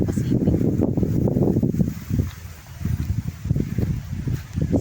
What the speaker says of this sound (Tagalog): ayan na yung hangin, malakas na galing sa Pacific